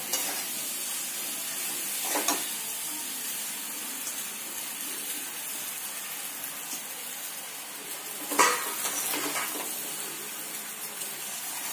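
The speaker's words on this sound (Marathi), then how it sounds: "थोडंसं हलवून घेणार आहोत आपण याला" Pasta with Indian spices stirred in a frying pan: a steady, soft sizzle throughout, with a couple of brief scraping stirs standing out, close and alone without voices.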